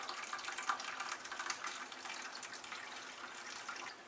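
Water draining from the hose of a Hydro-Fog machine into a bucket, a steady splashing gush that runs continuously and fairly loud throughout, with no voices.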